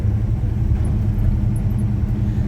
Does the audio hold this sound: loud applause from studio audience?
no